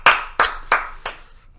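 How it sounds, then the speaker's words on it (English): Four distinct claps at an even, deliberate pace, close and fairly loud, with no talking. "Let's give a round of applause to Texas for being dope."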